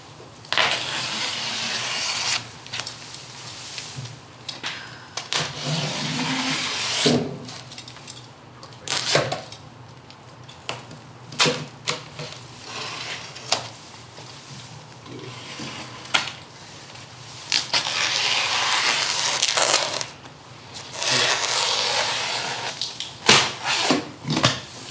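DuPont Weathermate Plus housewrap being cut and handled around a window rough opening, with repeated crinkly rustling bursts and sharp slicing scrapes, close and irregular, no talk.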